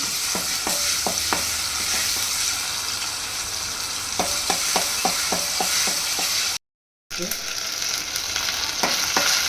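Ginger garlic paste frying in two to three tablespoons of oil in a kadai: a steady bright sizzle with clusters of quick metallic spatula taps and scrapes, close up, briefly cut out near the end.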